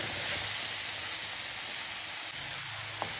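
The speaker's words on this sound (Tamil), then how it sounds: "நம்ம இந்த ஸ்டேஜில் கேரட்டையும் சேர்த்துடலாம். இதே நல்லா வதக்கி விட்டுருங்க." Carrots sautéing in a pan for carrot thovayal give off a steady, even sizzle and hiss, continuous and fairly close, with no voices over it.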